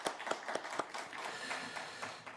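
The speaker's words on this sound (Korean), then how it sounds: "우리 큰 박수하도록 하겠습니다" A church congregation applauds during a Sunday worship service, a brisk patter of many hands with a few sharper claps standing out, moderate and fairly steady.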